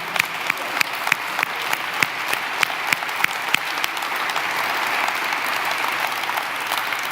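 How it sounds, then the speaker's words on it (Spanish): Church congregation clapping during a Spanish-language sermon, a full sustained round of applause with a few sharp claps standing out early, moderately loud and continuous throughout. "dale un aplauso a Jesús"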